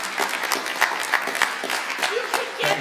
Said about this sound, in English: I would love for everybody in the building here to give applause to Marilyn Rambo for her 2 years.